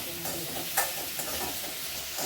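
Radish for sambar sautéing in a pan, with a soft, continuous sizzle and faint scraping of stirring, fairly quiet and close, with no talk.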